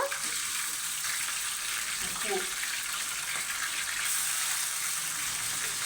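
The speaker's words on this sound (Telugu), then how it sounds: "ఇప్పుడు చికెన్, మనము వాష్ చేసుకొని పెట్టుకున్న చికెన్ వేసుకోవాలి ఫ్రెండ్స్" Washed chicken pieces hit hot oil with curry leaves for a grandmother's chicken curry, giving a steady, close sizzle with a faint voice briefly underneath.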